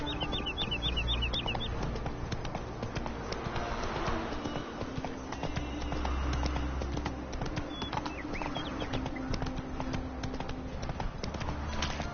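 Roach, a horse in the fantasy game The Witcher 3, gallops with a steady rapid clip-clop of hooves throughout. The hoofbeats are fairly close and run under rustling and other game noise, with brief chirps early on.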